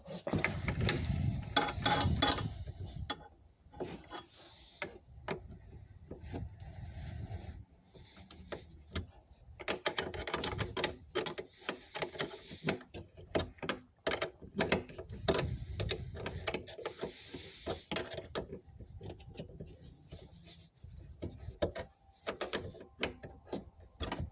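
A hand ratchet tightens a fastener while a BMW IBS battery sensor is replaced. It gives quick runs of close, crisp clicks in bursts separated by short pauses, with a few faint shuffles and bumps of work between them.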